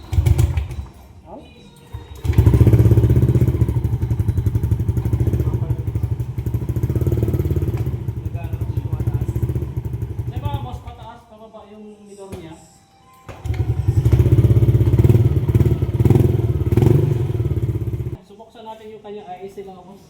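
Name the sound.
motor scooter engine running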